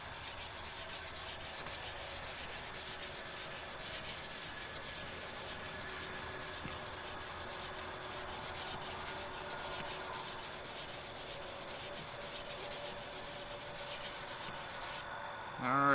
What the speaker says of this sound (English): swipes across the sandpaper, and you're rotating it a quarter turn each time